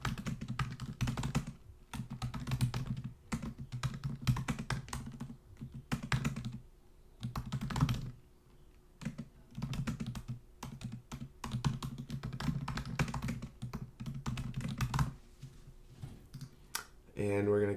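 Rapid typing on a computer keyboard, close and steady, with bursts of key clicks broken by short pauses and a low hum underneath throughout.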